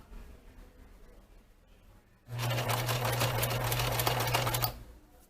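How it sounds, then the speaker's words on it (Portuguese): A sewing machine runs steadily for about two and a half seconds, stitching a seam in fabric with a loud, continuous motor whir and rapid needle clatter, after a quiet pause with no talking. "E agora vou começar a costurar."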